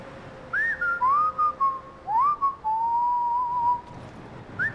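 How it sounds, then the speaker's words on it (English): A character in the Skyrim video game whistles a clear melodic tune of rising and gliding notes, several phrases in a row, close and loud over a faint steady hum. "What did you just whistle?"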